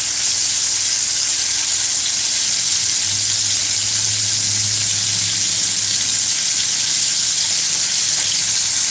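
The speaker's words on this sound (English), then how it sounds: "quickly stir fry the sausages" Sausages sizzling as they are stir fried in a pan for an omelette with broccoli, franks and mushroom, a steady hiss and crackle running evenly throughout with a low hum under it, no voices.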